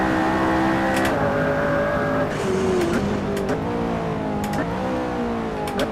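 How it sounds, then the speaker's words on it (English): A McLaren P1 hypercar driven in the Assetto Corsa racing game, its engine note climbing steadily through each gear with sharp shifts in between, loud and continuous with no voices. "Home field advantage here for the McLaren P1. The second of the big three hypercars from the mid-2010s."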